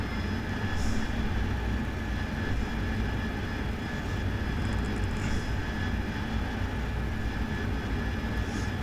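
An AV-8B Harrier jet in a flight simulation game, throttles pushed up: a loud, constant broadband engine roar with a steady whine, unbroken throughout.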